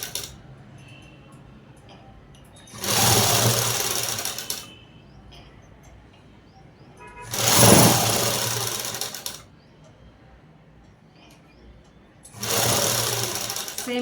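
A sewing machine stitches the lining seams of a black garment in three loud, steady runs, each lasting about two seconds, separated by quieter pauses with faint room noise.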